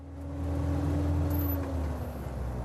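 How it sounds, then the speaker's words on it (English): A Setra S6 bus gearbox whines while driving, a steady tonal hum gliding slowly downward over the low rumble of the engine and road, heard from inside the cabin. "He says you can hear the transmission, which is saying, "Hello, I'm the gearbox and wanted to say hi.""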